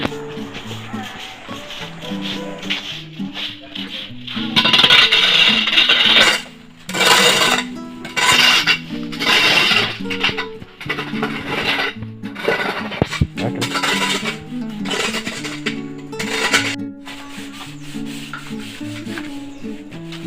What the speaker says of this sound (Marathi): वायर ब्रश आहे